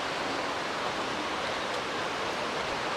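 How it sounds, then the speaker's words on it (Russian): A waterfall in Ordesa y Monte Perdido in the Pyrenees roars as a steady, loud broadband rush of falling water heard close, with no talk. "Вот такой красивый водопад."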